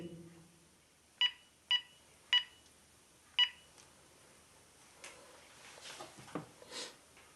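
Telephone number dialed on a keypad, a few short tone beeps spaced unevenly, followed by faint handling noises, quiet and close.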